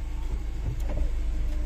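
A car idles as it settles into a parking spot, giving a low, steady engine rumble close by for under two seconds with a faint whine above it.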